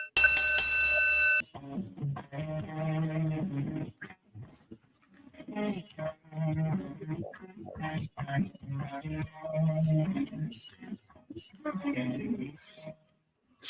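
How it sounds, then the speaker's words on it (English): A bright, ringing bell strikes once and sustains briefly at the start, sounding as a cue before a commercial break on a wrestling talk show, then someone speaks for the rest of the clip. "we're gonna ring that bell and we're gonna send a word from our sponsors"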